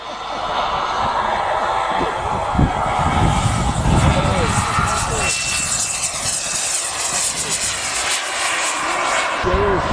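A model aircraft engine droning steadily as the plane flies at an outdoor model air show, a continuous buzzing roar that swells and fades slightly, with a commentator's voice over a public address system throughout.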